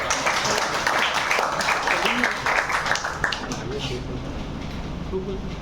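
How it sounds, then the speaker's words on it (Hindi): Audience at a coaching institute applauding exam toppers, dense clapping from a crowd indoors that fades out partway, followed by a quieter room with some talk. "सभी लोग एक बार तालियां बजा करके उनको"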